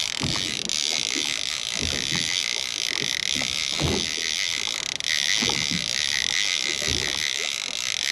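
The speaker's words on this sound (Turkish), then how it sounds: "Hazır sarabiliyorken hızlı çekiyorum." A fishing reel is cranked fast while playing a dentex hooked on a tai rubber lure at sea, giving a steady high whirring buzz throughout with irregular low knocks and thumps beneath it.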